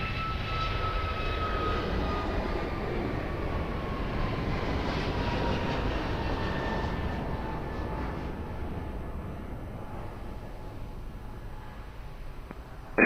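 An airplane approaching Lisbon Airport passes overhead with a steady engine roar and a falling whine, loud at first and slowly fading as it moves away.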